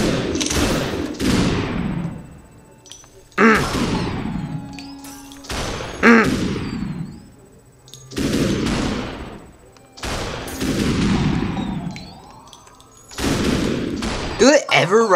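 Enemy gunfire in the video game SuperHot comes in several loud bursts of rapid shots separated by short pauses, with some talk mixed between the volleys.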